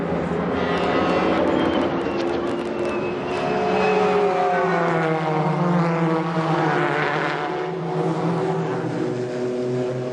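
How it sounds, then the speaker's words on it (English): Race cars at Le Mans, including a BMW with a 6-litre V12 engine, roaring past with rising and falling pitch, one loud sweeping pass dominating before fading, with other engines droning behind. "Pierluigi Martini brings the BMW in with its 6-litre V12 engine."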